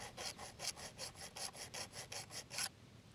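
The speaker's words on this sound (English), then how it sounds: "So then it's a matter of file it a few times" A hand file rasps back and forth over the rakers of a chainsaw chain in about a dozen quick, even strokes, close and crisp, then stops.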